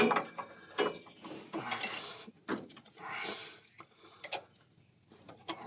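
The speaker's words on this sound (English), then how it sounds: "So we're going to tighten up our jam nut." A jam nut is tightened on a car with a wrench, giving a run of close ratcheting clicks and metallic turns, broken by short pauses and scraping handling noises.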